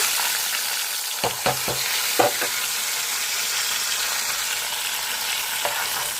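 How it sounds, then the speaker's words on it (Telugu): Steady crackling sizzle of hot oil tempering poured into an elephant-foot yam and Malabar spinach curry, with a few sharp clinks and scrapes of a spoon against the pot near the start, then sizzling continues alone. "ఈ పోపుని ఇందులో వేసేసుకుందామండి"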